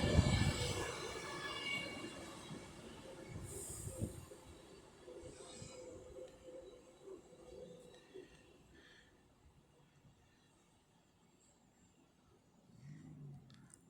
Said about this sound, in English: And over there is a London North Western Railway service to London Euston.